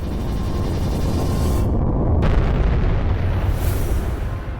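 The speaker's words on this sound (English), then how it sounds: "A leaked video revealed an explosion that had destroyed the capsule." A SpaceX Dragon capsule is destroyed by an explosion during a SuperDraco abort engine test caused by a faulty valve, heard as a loud, sustained roaring blast with a rumbling low end that stays strong throughout, with no voices.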